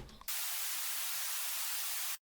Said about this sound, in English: And then the last thing we've got, by no means the least important, is white noise.